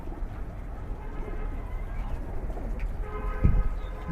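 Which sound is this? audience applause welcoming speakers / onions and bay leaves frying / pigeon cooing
pigeon cooing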